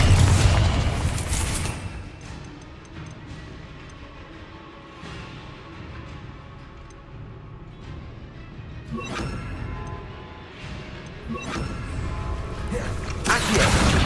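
Spell explosions and magical impacts from Confringo cast in Hogwarts Legacy on PC: a loud booming burst at the start, a quieter rumbling stretch, then sharp blasts around the middle and another loud burst at the end.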